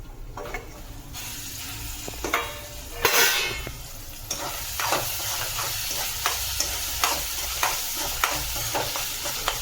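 Sautéed onion and tomato are stirred in a sizzling pan for a Maharashtrian clam sukka, with a steady frying hiss under repeated scraping strokes and a louder clatter near the start.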